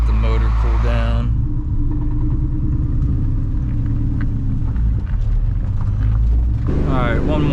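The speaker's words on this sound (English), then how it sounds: "I'm just gonna drive a little bit and let the motor cool down." Loud Ford Mustang Cobra engine on the move, a steady low rumble and drone heard from the driver's seat, with sharper revving bursts at the start and end.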